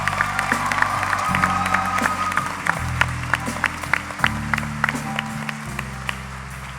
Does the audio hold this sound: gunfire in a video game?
no